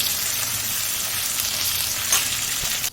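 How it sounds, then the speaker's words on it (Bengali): Steady, dense sizzling of bitter gourd frying in hot oil, loud and close, continuous throughout with a brief louder crackle near the end. "ফোড়নের সাথে সাথে উচ্ছেটা ভেজে নেব"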